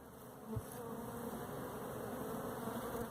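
A dense, steady buzzing of many bees fills the air continuously, low and droning, with a faint thump near the start.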